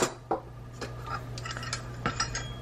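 A Stanley camping pot and storage containers are handled, giving a few light metallic clinks and knocks with quiet rustling between them, close by and fairly faint.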